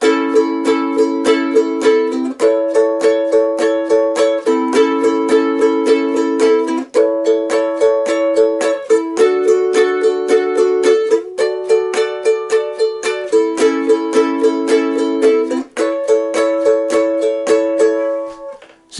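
Ukulele played up the neck with barred A shapes on the opening lines of a song, a steady, even rhythm of bright strums that shifts chord shapes every couple of seconds, close and alone for about nineteen seconds.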